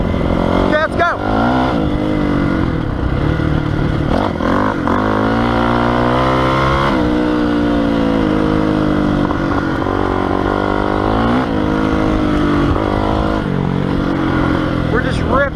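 A Honda CRF450R dirt bike roars steadily on off-road trails, its engine revving up and down with throttle changes throughout, close to the rider, while someone talks over the noise.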